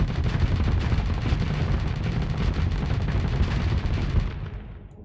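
Dense, continuous rapid weapons fire from spaceships in the space combat game Starsector, loud and close, crackling bursts layered with booming impacts for about four seconds before fading out, with no talking.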